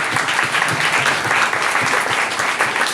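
A church congregation clapping during a sermon, a steady, loud crowd applause with even rhythm that holds for the whole stretch.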